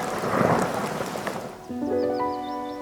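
Heavy rain pours with a rumble of thunder, then the downpour gives way to calmer ambience with birds chirping.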